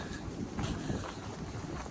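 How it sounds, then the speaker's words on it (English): Strong wind gusts buffet the microphone on a mountain trail at Unicoi Gap, a dense, low, rumbling roar that swells slightly midway through two seconds. "Man, the gusts of wind up there."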